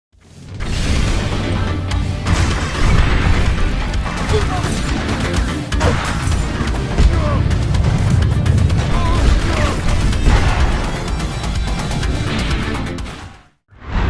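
Gunfire, crashes and explosions from Guns of Fury, a 2D run-and-gun action platformer, come as a loud, dense, continuous barrage over a game soundtrack and stop abruptly near the end.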